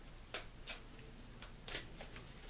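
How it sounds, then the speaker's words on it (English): Tarot cards being shuffled by hand, a series of short papery riffles spaced irregularly over a quiet room background with no talking. "I'm going to shuffle till I feel led to pull a card"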